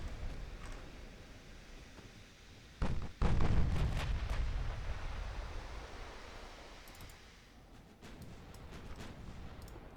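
A battlecruiser's turret guns firing in the naval game Ultimate Admiral: Dreadnoughts: one heavy, booming salvo lands near the middle, followed by a long rumbling roll and crackling tail that fades under a steady wash of sea and wind noise.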